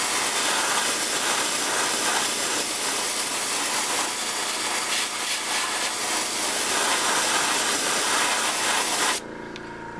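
An airbrush sprays pearlized black paint onto a fishing lure, a steady close hiss running continuously before cutting off near the end.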